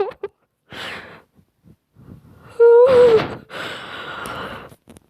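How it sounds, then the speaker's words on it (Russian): A character in the horror video game Death Park 2 snores loudly in several rasping, breathy bursts with a groaning, moaning tone, separated by short quiet gaps. "Я слышу, как он храпит. О боже, как он жестко храпит."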